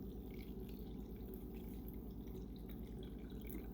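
Liquid poured steadily over a dog's food in a bowl, a continuous close trickle and splash with no talking.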